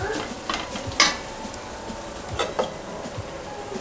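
Cooked vegetables are stirred in a pan of spicy, creamy pasta sauce: a soft, steady sizzle broken by a few sharp scrapes and taps of the spoon against the pan.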